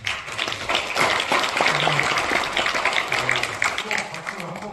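Applause at a congratulatory gathering sounds as a scattered patter of clapping, with a voice talking over it.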